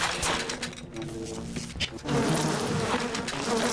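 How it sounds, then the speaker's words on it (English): Bees buzz in the Bioshock video game, a loud, dense, continuous drone of many insects droning close by with no talk. "Look at the bees."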